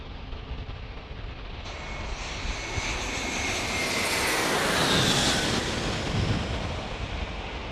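A JetBlue airliner roars past at a San Diego airport at night. The broad jet rumble and hiss swell loudly to a peak, then hold as it goes by, with no talk over it.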